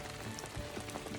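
Heavy rain pours down on a muddy campsite with wet tents, bikes and a hammock, a dense steady hiss of drops spread evenly across the moment with no voices.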